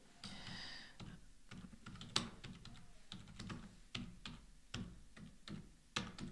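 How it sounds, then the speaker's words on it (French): Someone types a lesson on a computer keyboard, a quiet, close, irregular patter of key taps with occasional louder strokes and short pauses, no speech. "Puis je tape ici cette leçon."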